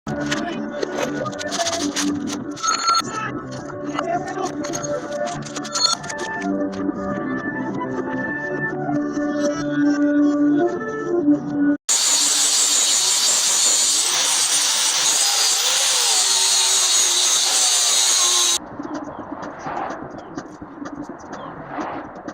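Metal is cut and welded on a 1968 Ford F100 during an air-ride install: a steady tonal whine runs at first, then a loud, hissing roar holds for several seconds before dropping to a quieter buzz.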